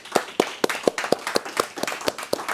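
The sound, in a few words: audience applause at awards ceremony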